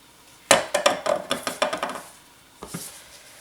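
Quick clinks and taps of a utensil against a container as fragrance oil is stirred into oatmeal, milk and honey soap batter: a rapid run of a dozen knocks, a pause, then two more taps.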